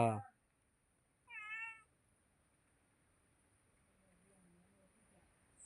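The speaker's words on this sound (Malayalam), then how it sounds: "ഒരു പൂച്ചക്കുട്ടിയുണ്ട് ഇടാ പൂച്ച മീൻ കണ്ടിട്ടാണ് വരുന്നത്" A single short, thin kitten meow rises briefly out of near silence, quiet and close, after a brief bump at the start.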